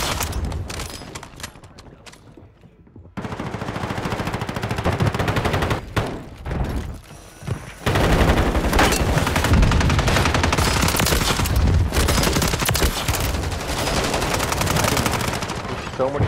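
Dense video game gunfire with tracer rounds rattles in loud sustained machine-gun bursts, broken by short quieter gaps before resuming in a continuous roar.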